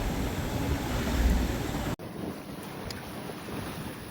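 Steady wind roars across the microphone aboard a Catalina 30 sailboat under way, a continuous broadband rush that dips abruptly for an instant midway, then resumes slightly softer with faint water wash beneath.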